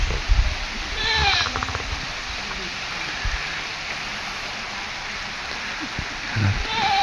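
Goats on a mountainside in the rain: a couple of short bleats, one near the start and one near the end, rise over a steady hiss of rain, with people talking faintly in the background.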